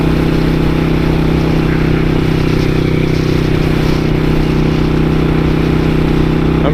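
A 1999 Suzuki Intruder 800 motorcycle revs hard at speed, its loud, steady engine drone carrying strong low tones alongside wind noise, with no voices.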